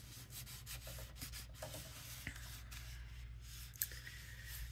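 A paper card template from a tri-fold shutter card being burnished, with soft, quiet rubbing strokes close by and a couple of small sharp ticks.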